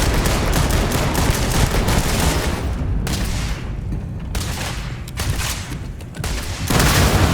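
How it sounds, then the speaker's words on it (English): Dense, continuous gunfire in a Starfield firefight, with loud overlapping shots and booms pounding without let-up and only brief dips between bursts. "This is your last warning. I am opening fire."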